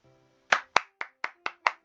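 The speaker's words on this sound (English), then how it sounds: "Round of applause, round of applause." Six sharp hand claps ring out at a steady pace, close and crisp, after a moment of near silence, with no voices.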